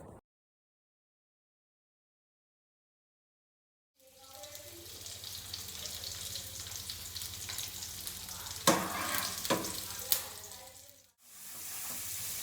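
Sri Lankan kottu frying on a hot griddle, a steady close sizzle that starts after four seconds of silence, with stirring and a few sharp metallic clatters, briefly cutting out near the end.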